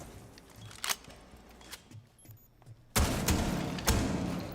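Bursts of SMG gunfire from a Rainbow Six Siege esports match, with scattered sharp shots and thuds early, then a loud, sustained barrage of rapid fire in the second half.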